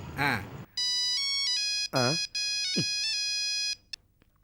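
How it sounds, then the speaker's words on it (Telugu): A phone's electronic ringtone plays in a steady pulsing melody, with brief vocal sounds cutting in at the start and midway. "రింగ్ అవుతుంది, రింగ్ అవుతుంది."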